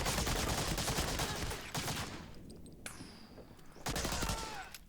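Dense, loud bursts of gunfire crackle outside in Medal of Honor: Allied Assault, with rapid overlapping shots in waves, a brief lull near the middle, then another heavy volley.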